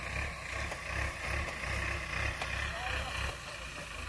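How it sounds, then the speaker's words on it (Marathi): A tractor engine rumbles steadily at a sugarcane loading site, a low continuous drone that holds throughout, with talk and background activity around it. "ही एक ट्रॅक्टर आला अजून"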